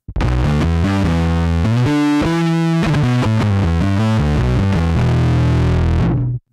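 A bass guitar played through a Rat distortion pedal chugs out a loud, fuzzy riff of changing notes, heavily saturated and close, before cutting off abruptly at the end.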